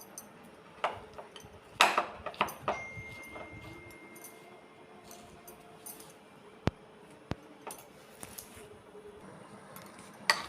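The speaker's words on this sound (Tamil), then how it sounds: "வெல்லம் வெள்ளாம்பழம் ரெண்டுமே நல்லா ஸ்மாஷ் ஆகிருக்கு." Wood apple pulp and jaggery are mashed together in a bowl, giving scattered soft clinks, scrapes and a few sharp taps of utensil against the bowl, faint and irregular in a quiet room.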